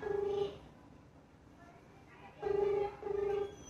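A phone call rings out on the line: quiet, distinct electronic beeps, one short tone then a pair after a pause, each a clean pitched buzz heard through the handset.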